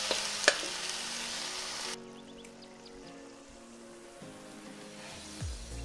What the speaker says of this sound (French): Un petit fond de vin blanc. On va baisser un peu le feu. Et on va laisser mijoter ça tranquillement.